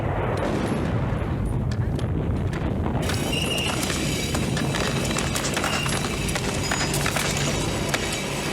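A film explosion from Rambo: First Blood Part II breaks out partway through: a sudden, broad, rumbling blast followed by crackling, gunfire-like debris bursts over a continuous low roar.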